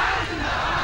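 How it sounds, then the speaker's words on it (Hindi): Large crowd at an election rally stage chanting zindabad slogans, a loud, dense roar of many voices sustained throughout with no gaps. "जैसा कि आप सुन पा रहे हैं मंच से जिंदाबाद के नारे भी लग रहे थे।"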